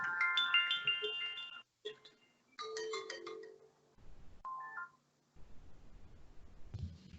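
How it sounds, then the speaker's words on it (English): A phone rings in a quiet room with a bright electronic ringtone that plays in bursts separated by short pauses and gaps of silence, heard alone without talk. "The phone rang."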